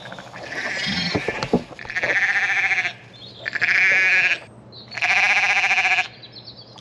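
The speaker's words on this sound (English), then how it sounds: "I'm a bit worried this sheep might need lambing actually." Sheep during lambing give three long, loud bleats, each lasting about a second, with short pauses between them, close by and with no talking.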